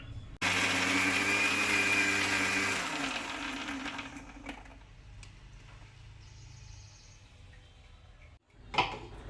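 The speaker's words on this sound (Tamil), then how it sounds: "நல்லா வந்து மிக்சியில் அரைச்சதுக்கப்புறம் தான் நமக்கு அந்த வெண்ணெய் வந்து திரண்டு தனியாக வரும்" A mixer grinder blending cream into homemade butter, a loud whirring motor that runs steadily, slows and drops in pitch, then cuts out before a brief clunk near the end.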